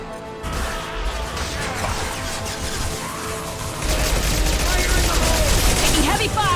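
Heavy gunfire in Mass Effect, a dense continuous barrage of rapid shots and impacts that swells louder partway through, with voices speaking over the chaos.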